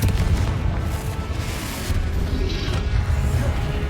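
A Confringo spell explosion in Hogwarts Legacy gives a deep, rumbling boom that rolls on as a sustained roar, with a few softer bursts layered over it.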